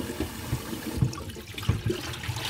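Water overflows a container in which salted lamb ribs (pinnekjøtt) are soaking, a steady close gurgling trickle with a few soft splashes and no talking.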